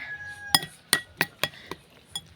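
Utensil clinks against a bowl while salad ingredients are tossed together, six or seven sharp, bright taps spaced irregularly over a couple of seconds, close and clear with no talking.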